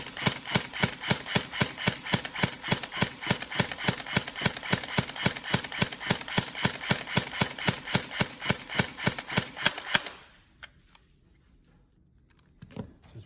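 A Tokyo Marui MP5K airsoft electric gun, serviced and fitted with a power spring, fires a rapid, even burst of sharp mechanical cracks for about ten seconds before stopping abruptly, followed by a few faint clicks.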